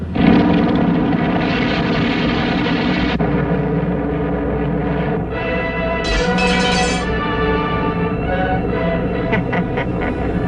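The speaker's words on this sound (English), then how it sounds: "Attention, all pilots. Giant bomber being stolen. Take off immediately." Roar of a giant bomber aircraft taking off in a radio drama, a loud, continuous, close engine drone with a shifting tone partway through, no voices over it.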